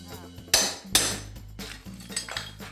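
A hammer strikes during a bathroom renovation: a few sharp metallic clanks, two loud ones close together, then lighter knocks and clatter nearby.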